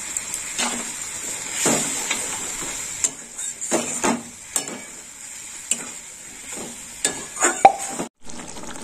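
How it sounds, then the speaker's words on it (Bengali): Water from rinsing a bowl added to dahi aloo, a yogurt potato curry, in a pan, then stirred and fried down with the yogurt, giving scattered stirring scrapes, soft plops and a light sizzle, close and fairly quiet, with no talk. "এবার আমি বাটি ধোয়া জলটা দিয়ে দিচ্ছি, আর একটু ভালো করে কষে নেব।"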